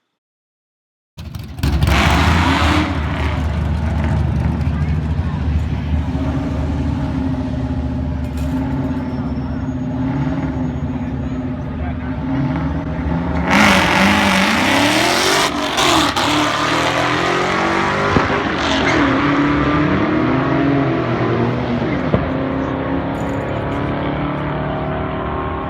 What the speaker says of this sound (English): So now I decided to back up and heat the tires up real quick before my next run.